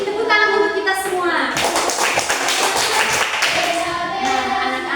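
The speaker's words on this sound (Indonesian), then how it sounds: "Oke, tepuk tangan untuk kita semua." A class of schoolchildren claps their hands in a loud, rapid burst of applause that follows a few spoken words and runs on with voices mixed in.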